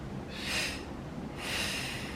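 Two forceful breaths blown out during a breathing exercise, each a soft airy rush lasting about half a second, close and clear with a pause between and no talk.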